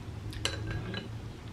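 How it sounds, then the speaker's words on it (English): A spoon clinks lightly against a dish of vegan tteokbokki, giving a few quiet, close metallic taps with no talk. "It might be time for the spoon."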